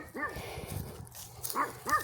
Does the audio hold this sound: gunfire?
no